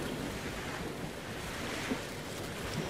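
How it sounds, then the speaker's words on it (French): Rising wind over sea waves gives a steady, broad rush of surf and gusting air at moderate distance, continuous with no voices. "Mais le vent se lève vraiment."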